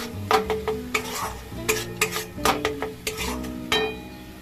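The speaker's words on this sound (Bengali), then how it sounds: "এখানে নুন হলুদ আর জিরের গুঁড়ো আর কাশ্মীরি লঙ্কার গুঁড়ো দিয়ে ভালো করে কষে নেবো এটাকে, খুব ভালো করে কষে নিচ্ছি।" A spice paste of salt, turmeric, cumin and Kashmiri chili powder is stirred and fried in a pan for a prawn dish. A spatula scrapes and clinks in quick, uneven strokes over a low sizzle, close and loud, with no voices.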